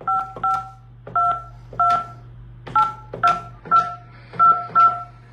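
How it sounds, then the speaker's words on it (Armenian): Telephone keypad tones sound as a number is dialed to reach a property developer, about a dozen short crisp two-tone beeps in an uneven rhythm, loud and close over a faint steady hum. "փորձեցինք կապ հաստատել նաև կառուցապատողի հետ, սակայն մեր զանգերը մնացին անպատասխան"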